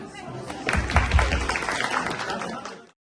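At an Eid reunion and pitha festival in London, the crowd breaks into a burst of clapping that swells and then fades. Voices are heard talking through the applause.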